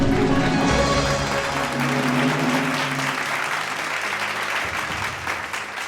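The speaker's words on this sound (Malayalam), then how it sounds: "give her a big hand" Sustained applause from an audience at a quiz-style stage show, a dense, steady wash of clapping for the whole stretch, loud and close, with faint crowd murmur and no clear speech.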